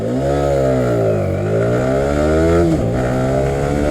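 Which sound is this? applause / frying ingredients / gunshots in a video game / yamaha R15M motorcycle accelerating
yamaha R15M motorcycle accelerating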